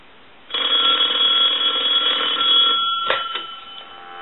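Western Electric 5302 rotary phone bell gives one sustained ring of about two seconds, loud and near, ending in a clunk as the handset is lifted, with no talk.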